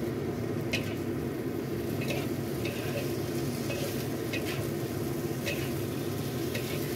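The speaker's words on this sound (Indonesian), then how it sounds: "Lalu kita tumis sampai dengan kuahnya atau sausnya ini mengering ya" Eggplant and other vegetables stir-fry in a reducing sauce in a pan for a vegetarian Hong Kong-style dish, with a steady soft sizzle and occasional light scrapes of stirring, close by with no talking.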